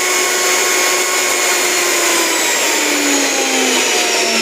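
A Havells Hexo 1000W commercial mixer grinder runs with no jar fitted, a steady loud motor whine and whir that holds continuously, with a slight pitch drift near the end.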